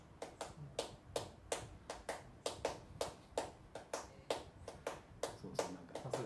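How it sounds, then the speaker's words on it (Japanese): Audience hands clapping along to a jazz quartet at D-Bop jazz club in Sapporo: a steady, even beat of sharp claps, roughly sixteen in six seconds, close and clear with no talking. "ファーストサークルちなみに手拍子叩けます？"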